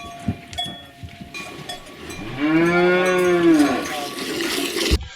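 A cow lets out a long, loud moo in the middle during feeding in a Transylvanian village, with farmyard background noise and faint clatter around it.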